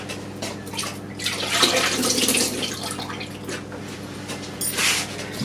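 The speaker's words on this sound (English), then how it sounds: "I'll just drain these because I've had these in water." Water poured off soaked potatoes, draining with a steady splashing rush that swells and eases, with a few dripping spatters and a faint hum behind it.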